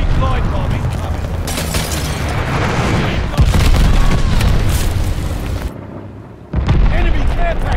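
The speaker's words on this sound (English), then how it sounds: "Enemy glide bomb incoming." Loud, continuous explosions and booming gunfire from glide bombs in Call of Duty Vanguard Team Deathmatch on the Berlin map, with heavy blasts throughout, a brief dip near the end, then more booms.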